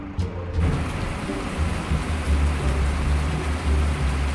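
Heavy rain pours down with rumbling thunder over a muddy field where a tractor and a harvester are stuck, a dense, steady downpour close by over a deep low rumble.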